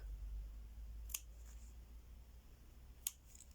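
Scissors snip crochet yarn threads, two faint, sharp clicks about two seconds apart over quiet room hum, close and with no talking.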